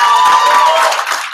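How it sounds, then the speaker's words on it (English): Short burst of crowd clapping after the second pitch at a 2016 hackathon evening, steady and fairly loud, with faint crowd murmur mixed in. "If you like the second pitch, round of applause"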